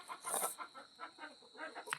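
A chicken clucks softly in a short series of irregular calls, close but fairly quiet, with a few sharper bursts and faint background noise.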